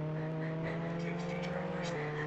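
An in-game car drives in the Roblox game Jailbreak, a steady, droning engine hum that holds a constant pitch, with a person talking over it.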